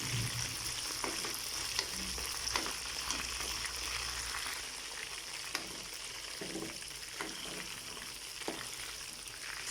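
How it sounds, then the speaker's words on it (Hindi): Chicken pieces fry in a pan of hot oil for arvi chicken, a steady close sizzle running throughout, broken by occasional spoon scrapes and stirs and a few brief pops. "चिकन को हमने अच्छी तरह से फ्राई कर लेना"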